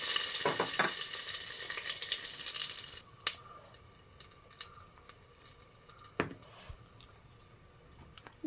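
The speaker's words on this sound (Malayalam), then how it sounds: "ലേശം ഉലുവ ഒന്ന് പൊട്ടട്ടെ, 2-3 കപ്പൽ മുളക്, ലേശം പട്ട, ഗ്രാമ്പൂ, ഏലക്ക, ഉപ്പ് കൊടുത്ത്" Fenugreek seeds, dried chillies, cinnamon, cloves and cardamom sizzling in hot ghee with salt, a fizzing crackle that fades after a few seconds, followed by quieter scattered pops and clinks.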